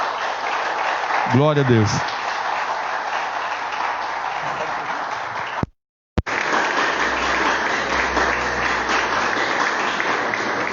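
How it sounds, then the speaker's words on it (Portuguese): Church congregation applauding loudly and steadily, a dense wash of clapping that runs almost the whole time with a brief break, while a voice speaks over it near the start. "você pode aplaudir o Senhor bem forte"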